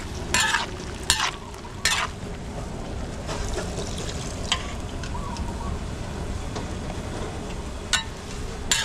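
Chop suey sauce thickened with cornstarch simmering in a pan at a wedding catering kitchen, a soft steady sizzle with several sharp scraping stirs of a utensil near the start and a few later clicks.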